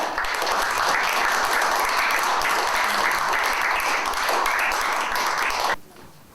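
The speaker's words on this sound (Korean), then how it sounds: "큰 박수로 환영해 주시기 바랍니다" An audience at a forum on North Korea and unification gives loud, sustained applause to welcome the lecturer, a dense, even roar of clapping that stops abruptly near the end.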